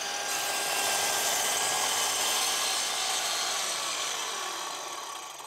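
A Festool Kapex KS 60 mitre saw cuts through oak with a loud, steady, high-pitched whine and rasp that holds throughout and fades slightly as the cut finishes.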